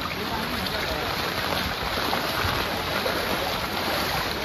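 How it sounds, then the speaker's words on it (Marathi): Heavy rain falling in Nalasopara, a dense, steady hiss of downpour on surfaces, continuous and enveloping with no pauses. "रात्री आज 3 दिवसातून पाऊस चालू आहे इकडे"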